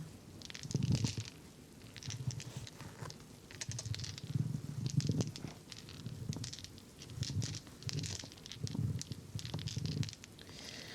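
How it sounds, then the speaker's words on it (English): Several dice tumble and rattle around on a dice tray in soft, repeated bursts of clicking and pattering, close and quiet, with no talking. "Right now I'm like rolling them around on the dice tray and it sounds really nice."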